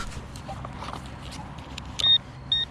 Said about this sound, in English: Sorry about the noise on the road.